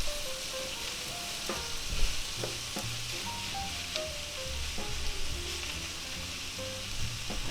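Cabbage and mixed vegetables softening in a hot pan, giving a steady, even sizzle with scattered small pops and crackles throughout.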